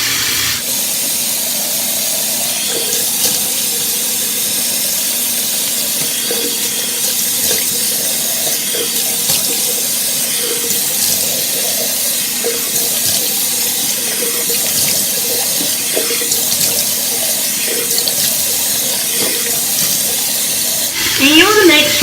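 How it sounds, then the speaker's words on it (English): Water runs steadily from a bathroom tap while a face is rinsed, a continuous close hiss and splash that lasts the whole time with small splashes from hands. "I'm just going to rinse it off for another minute."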